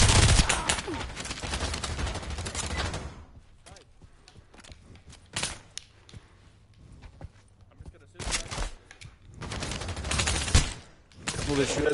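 Rapid bursts of gunfire in the PSVR2 shooter Pavlov VR, loud and dense in the opening seconds, then scattered shots and quieter stretches before heavy firing returns near the end; voices talk over parts of it.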